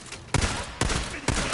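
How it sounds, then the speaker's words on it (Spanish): Gunfire rings out in the Days Gone video game, with three sharp, loud shots about half a second apart, each one trailing a short echo, and no voices over it. "¡Abran fuego!"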